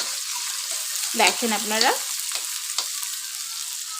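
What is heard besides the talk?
chopped onion frying with cumin in a pan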